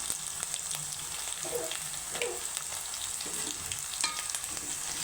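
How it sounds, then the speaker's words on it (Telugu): Vegetables with ginger garlic paste fry steadily in a pan, a constant close sizzle with occasional stirring scrapes throughout. "ఇవి బాగా ఫ్రై అవుతున్నాయి అల్లగల్లి పేస్ట్ వేసుకున్నాం"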